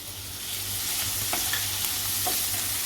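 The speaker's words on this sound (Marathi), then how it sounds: "कोळंबीला चांगलं परतून घ्यायचं आहे" Prawns sautéing in a pan with plenty of garlic, a steady close sizzle with a low hum underneath and a few faint stirring clicks, continuous and without speech.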